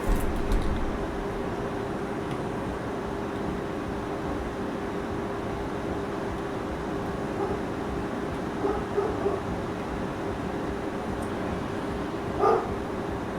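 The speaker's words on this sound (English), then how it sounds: "Sorry about the dog." A pet dog named River barks indoors a few times, with short scattered barks around the middle and one sharper bark near the end, over a steady room hum and continuous background noise.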